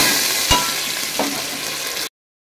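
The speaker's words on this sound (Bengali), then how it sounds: "আলুটা একটু ভেজে নেওয়ার" Potatoes fry in hot oil with a steady, fairly loud sizzle, broken by two sharp clinks of a utensil before the sound cuts off abruptly.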